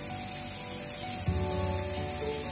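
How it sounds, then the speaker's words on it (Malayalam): Garlic dropped into hot coconut oil gives a soft, steady sizzle in the pan, a close, low-level frying hiss with a slight bump as it goes in. "2 ടീസ്പൂൺ വെളിച്ചെണ്ണ കൂടി ഒഴിച്ചിട്ട് വെളുത്തുള്ളി ഇട്ട് കൊടുക്കുക"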